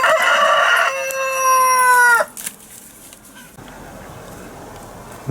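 A rooster on a suburban smallholding crows loudly and close for about two seconds, its harmonic call rising then cut off, followed by quieter barnyard clucking and background farm noise.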